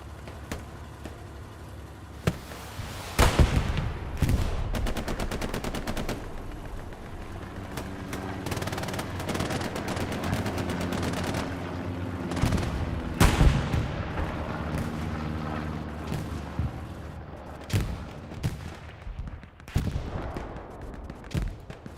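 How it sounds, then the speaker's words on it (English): An MG42 machine gun firing in a World War II style multiplayer video game, rattling in rapid bursts with sharp, loud single blasts and distant explosions mixed in over a steady battle background. "gonna set up the MG42. Possibly get some sick rounds here."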